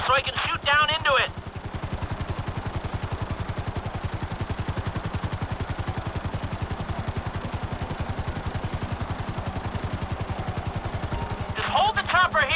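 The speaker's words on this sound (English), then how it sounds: "Just hold the chopper here." Helicopter in GTA 5 hovers in place, its rotor beating in a loud, steady, rapid chop throughout, with a voice speaking over it at the start and end.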